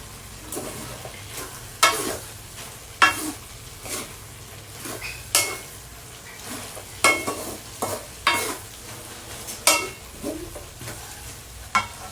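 Tofu and bean sprouts for ginisang togue stir-fry in a hot pan, with a constant sizzle broken by repeated, rhythmic scrapes and clanks of the spatula against the pan. No one speaks.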